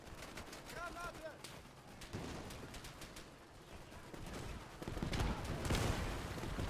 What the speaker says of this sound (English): Now that German's picked up a French 24-29 light machine gun.